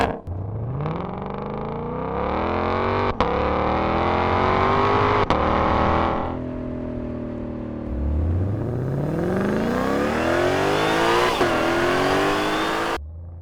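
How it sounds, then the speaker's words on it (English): A 2025 Ford Mustang GTD revs hard up close, its engine climbing and falling in repeated loud sweeps with brief gear-change breaks, no voices over it. "introducing the all-new 2025 Mustang GTD. Listen to the sweet sound of the devil."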